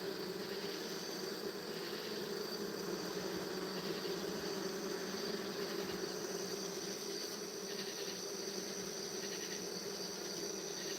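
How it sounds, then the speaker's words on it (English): Bees buzzing at night beside a hive, a continuous droning hum mixed with a steady insect chorus, even and moderately loud with no pauses and no voices. "Listen to these bees."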